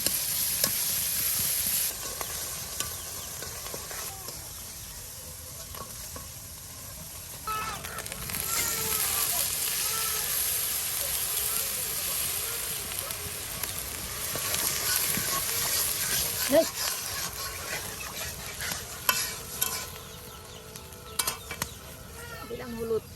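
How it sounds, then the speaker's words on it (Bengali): A paste of ground onion, garlic and mustard fries with chopped onion while it is stirred in a pan, giving a continuous sizzle with scraping strokes, steam hiss and occasional clinks. Quiet voices come and go underneath. "আর এটা এখন পেঁয়াজ কুচির সাথে মিক্সড করে নেওয়া হচ্ছে"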